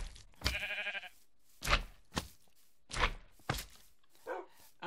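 Minecraft sheep bleating, a wavering bleat followed by several short thuds and blocky game sounds spaced across a few seconds, fairly quiet.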